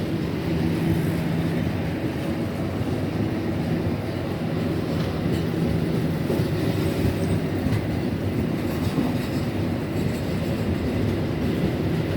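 Kamandaka and Bangunkarta passenger trains at Bumi Ayu station, one train halted while the other pulls into track 3; a steady, loud rumble of rolling wagons and engine drone continues throughout with no talk.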